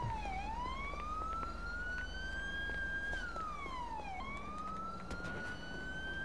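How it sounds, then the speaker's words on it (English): A wailing European-style two-tone siren in GTA V sweeps up and down continuously, loud and steady, with no talking. "it sounds like a, not a French siren, a European siren."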